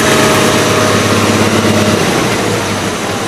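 Small 424 engine running steadily at close range, a loud continuous drone that settles toward idle, with no talking.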